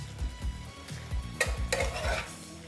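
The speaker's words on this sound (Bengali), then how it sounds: "মিক্সড করে নিচ্ছি।" A spoon stirs and mixes vegetarian katoa danta (drumstick) curry in a pan, giving repeated close scraping and clattering strokes over a soft sizzle, with no talking.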